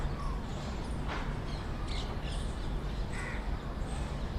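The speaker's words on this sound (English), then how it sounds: "on the chirping of these birds" Crows caw several times outdoors against a steady bed of low rumbling traffic-like background noise, with faint bird chirps scattered through and no voices.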